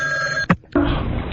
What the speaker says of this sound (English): That's probably Floyd's real phone at home. He just never updated it. He's got the little dial on it.